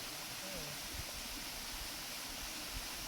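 Waterfall roaring steadily, a dense, constant wash of falling water that fills the whole clip, with faint voices mixed underneath.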